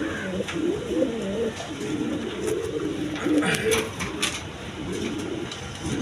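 A pair of Sirazi Lahori pigeons, a male and a female, coo in low rolling phrases close by, continuing through the clip with faint background clatter and a voice talking over them.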